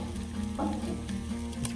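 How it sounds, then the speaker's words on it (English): Hash browns sizzle and fry in bacon grease on a Blackstone griddle, a steady close crackle with a brief louder burst as they land on the hot surface, no voices. "Since we have bacon grease on there, I'm gonna put my hash browns in."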